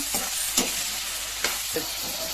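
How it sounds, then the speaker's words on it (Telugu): Salted mutton curry, Thanjavur style, stirred as it fries in a pan, with a steady sizzle and a few sharp scrapes of the spoon against the metal. "ఉప్పు వేసి బాగా కలబెట్టాలి"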